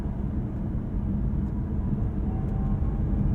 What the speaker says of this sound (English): There's that gas generator.